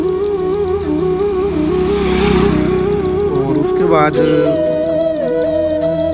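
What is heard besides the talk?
tractor engine being driven and parked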